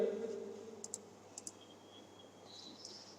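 A computer mouse gives a few faint, quick clicks in pairs over a quiet room hum, with no talking.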